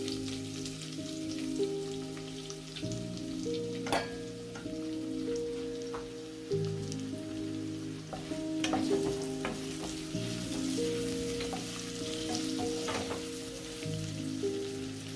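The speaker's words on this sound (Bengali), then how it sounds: "ঢেলে দিচ্ছি তেল, একটু অলিভ অয়েল, মতো আস্ত জিরা, দিয়ে দিচ্ছি পেঁয়াজ কুচি" Chopped onion and whole cumin frying in olive oil in a saucepan, a steady close sizzle with crackling pops and occasional stirring scrapes, no voices.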